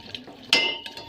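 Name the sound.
stirring Maggi noodles with a spoon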